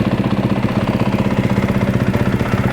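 A Yamaha WR250F motorcycle engine idles steadily right after starting, a close, loud, even rhythmic thrum with a regular pulsing beat and no talk over it.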